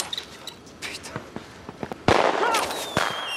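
Fireworks going off in an action scene from the 2002 French film Nid de guêpes: scattered pops and crackles build into a loud burst of bangs and fizzing crackle, with a whistling rocket streak near the end.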